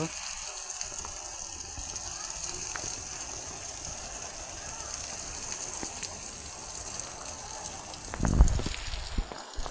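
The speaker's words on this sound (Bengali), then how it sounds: "খুব বৃষ্টি পড়তেছে দেখতে পারতেছ" Heavy rain falls on a rooftop as a steady, broad wash of hiss, with a louder splashing burst near the end.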